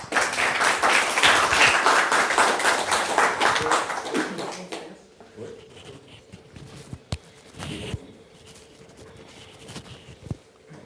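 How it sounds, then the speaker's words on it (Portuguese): Audience applause at the close of a lecture on intellectual property and the Austrian School, a dense burst of clapping for about five seconds that thins to scattered claps and soft room noise. "Salva de palmas aí para o André."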